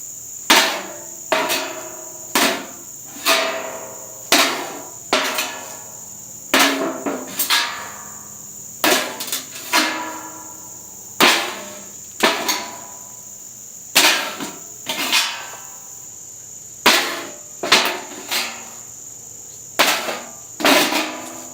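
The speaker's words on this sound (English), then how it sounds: "I'm going to test the tip one more time against a galvanized steel trash can lid to see how it performs." Katana tip striking a galvanized steel trash can lid, repeated sharp metallic clanks with ringing decay, about twenty hits in an uneven rhythm, loud and close with no talk.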